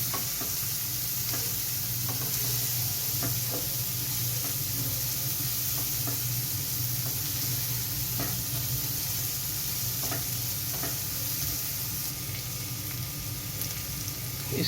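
Egg masala seasoned with black pepper sautés in a pan, a steady close sizzle running throughout with occasional soft knocks and scrapes of stirring.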